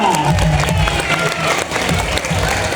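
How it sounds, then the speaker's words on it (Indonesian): A crowd of spectators at a sea lion show applauds and cheers for Faya the sea lion, a loud, continuous wash of clapping with some voices mixed in. "Bisa kembali beri tepuk meriah buat Faya."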